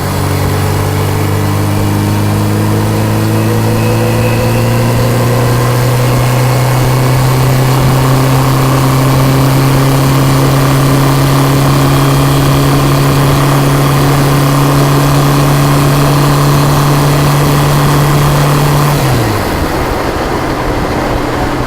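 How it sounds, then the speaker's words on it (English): Motorcycle engine cruising on a straight, flat country highway, loud and close, with a steady droning tone held for most of the ride before the pitch drops and the engine note falls away near the end. "But this is the way to enjoy a motorcycle."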